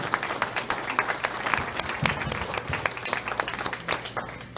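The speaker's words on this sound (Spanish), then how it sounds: "denle un aplauso al Señor entonces en esta mañana" A church congregation breaks into applause, a dense, steady patter of many hands clapping at moderate distance for several seconds, with no speech over it.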